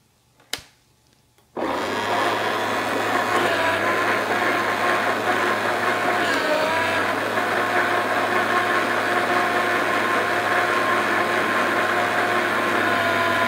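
A Popeil pasta machine extruding pasta dough starts after a soft click, then its motor hums and whirs at an even, steady level for a long stretch, close and continuous.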